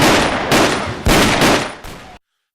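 Loud, close gunfire in an ambush firefight inside an old church-like room, several heavy overlapping bursts back to back over two seconds before cutting off abruptly.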